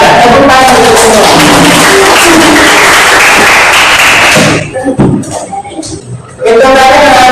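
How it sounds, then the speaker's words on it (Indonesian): A high school informatics class applauds its student groups, a loud, dense burst of clapping that runs for several seconds, thins out into scattered claps and thuds, then swells briefly again. "Tepuk tangan untuk semua"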